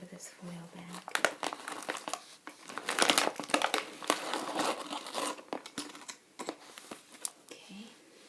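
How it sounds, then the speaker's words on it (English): Crinkling foil bag handled up close as powder is shaken out, with rustling crackles and sharp crunches in uneven bursts, soft and intimate, with quiet speech underneath. "Yes, that's in a powder form here, so I have to just get it out of this foil bag."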